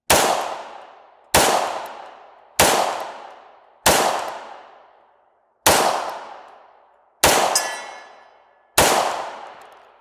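Seven loud, evenly spaced single shots from a military surplus P1 pistol fired outdoors, each a sharp crack with a ringing tail that fades before the next.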